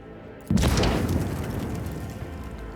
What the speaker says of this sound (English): A frag grenade explosion cuts off the rest of the words.